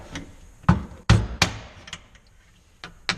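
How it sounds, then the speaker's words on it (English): A pink crescent hammer gives a garbage disposal several sharp metallic whacks, loud and close, spaced irregularly with quiet gaps and a final lighter knock. "I just give it a couple good whacks."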